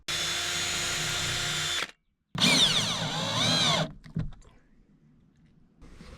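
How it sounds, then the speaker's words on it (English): A power drill bores holes and drives screws while curtains are fitted in a VW van: a steady whine for about two seconds, a short pause, then a rising and falling burst, followed by scattered clicks and handling noises. "drill a hole, sink some screws."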